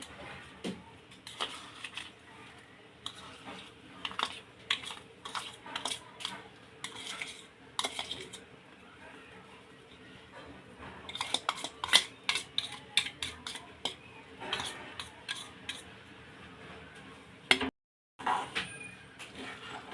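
Roasted semolina stirred into cardamom-flavored sugar syrup in a pan for rava laddoo, with close, repeated spoon scrapes and clinks against the pot in an uneven rhythm, no talking.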